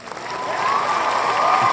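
A studio audience breaks into steady applause that swells quickly and holds at a loud, even level, with no clear speech on top.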